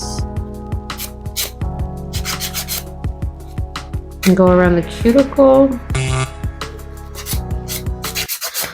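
Acrylic nails being sanded smooth with a nail file, a repeated short rasping rub in quick strokes, close and steady, with someone talking over parts of it.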